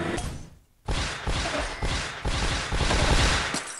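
Rocket blasts in the mobile puzzle game Toon Blast: after a short lull, a loud sustained rush of booming explosions rolls on in several surging waves, close and heavy.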